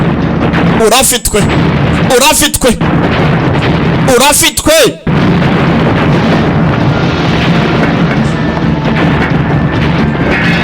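Explosions in a film, three heavy booming blasts in quick succession at close range, followed by a rumbling, noisy wash of sound as a voice talks over them.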